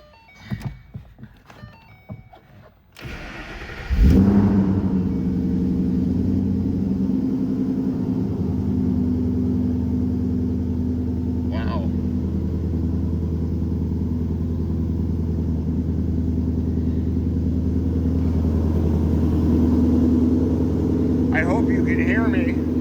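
A supercharged 5.0 Coyote V8 in a 2012 Ford Mustang GT cranks and catches, then settles into a loud, steady, deep rumbling idle that continues throughout, with brief voices at the start.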